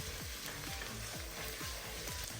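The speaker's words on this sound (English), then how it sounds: "Going to give that a really good mix." Chili, salt, pepper and Italian herbs being mixed in a hot pan, a soft continuous sizzle with repeated rhythmic scraping strokes, close and alone without talking.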